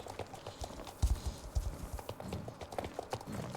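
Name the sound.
horse hooves clip-clopping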